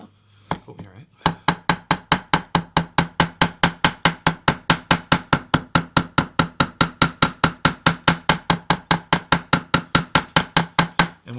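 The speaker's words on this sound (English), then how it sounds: "We want to hammer this down so it's nice and flat." A hammer strikes a glued leather seam against a granite block, about thirty sharp, evenly spaced taps in a fast, steady rhythm, close and clear with no talk over them.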